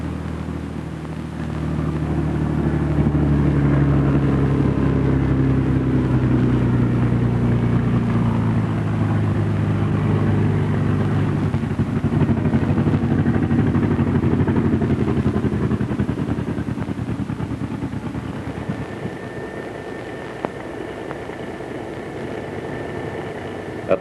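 A Bell P-39 Airacobra's piston engine runs steadily and loud while the fighter taxis on the ground, with a low droning hum that slowly shifts in pitch and then eases off toward the end.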